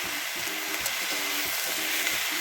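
Chili powder and sugar sizzle in a hot frying pan, with a continuous hiss and a rhythmic scraping as the mixture is stirred back and forth.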